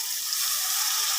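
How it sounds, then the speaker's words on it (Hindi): Water is added to prawn masala as it cooks, giving a steady hissing pour for about a second with nothing else heard. "पानी ऐड करना है।"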